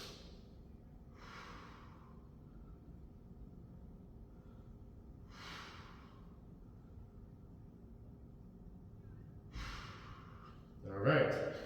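Slow, audible breaths during a spinal twist stretch: a few separate exhales spaced several seconds apart, close and soft, ending in a louder, rougher breath.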